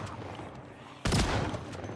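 Shotgun fire in the Project Zomboid video game, one loud, sudden blast that cuts in midway and stays loud with a rumbling tail.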